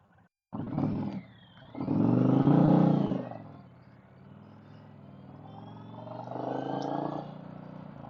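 A motorcycle pulls away from a gas stop on a touring ride, its engine rising in a loud close rev, easing off, then building again more distantly as it moves away.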